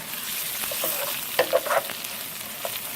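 Cumin seeds with cinnamon and clove tossed in hot oil in a pan, a steady close sizzle broken by a few quick stirring scrapes and clatters.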